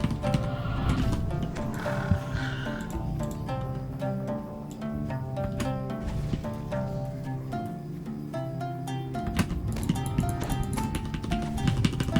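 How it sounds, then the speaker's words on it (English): A horse gallops in the online role-playing game Dungeons & Dragons Online, a steady rhythmic drum of hoofbeats running alongside layered game music throughout. "Don't have to kill these guys, we could just be racing past on our horse."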